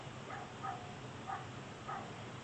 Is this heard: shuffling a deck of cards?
no